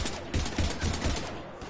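Heavy gunfire in a Mass Effect 3 firefight: a rapid run of close, punchy shots with a steady rattling rhythm for under two seconds, no voices over it.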